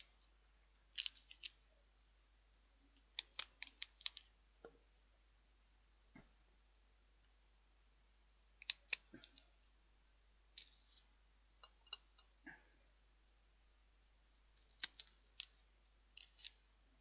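Food being cut up for a chicken breast salad gives faint, sparse snips and crisp clicks in short irregular bursts, close but quiet against a silent background.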